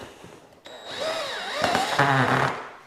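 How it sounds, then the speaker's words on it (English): Screwdriver driving a screw into a truck bed tonneau cover clamp, a short close burst of whirring and grinding that rises in pitch and ends with a brief rattling buzz. "We'll put this screw in."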